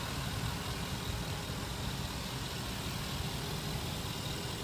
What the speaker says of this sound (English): The car is on, so you can hear how smooth it sounds.